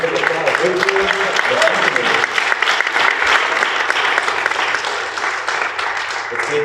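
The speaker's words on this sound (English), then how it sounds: "Let's give these two gentlemen a round of applause." Sustained crowd applause at a Miss MCC Princess pageant night, loud and dense clapping filling the room steadily throughout, with some voices mixed in beneath the noise.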